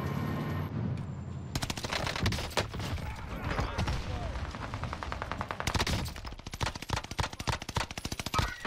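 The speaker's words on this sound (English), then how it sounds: "I'm getting shot from the tents now." Video game gunfire coming from tents: sustained bursts of rapid automatic shots, close and sharp, turning into a fast staccato rattle of individual cracks toward the end, with a voice talking over it.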